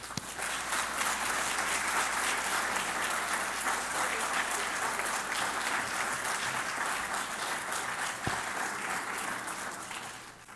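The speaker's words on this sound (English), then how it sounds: "If you give me a round of applause for Sherry." Steady, sustained applause from an audience at an LGBTQ community launch event, holding a dense, even level for about ten seconds before tapering slightly at the end.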